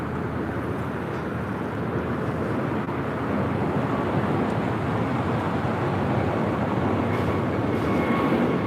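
A Spirit Airlines Airbus A321neo takes off from the south side at LAX, a loud continuous broadband jet roar that builds slightly and holds steady, heard alone without talk.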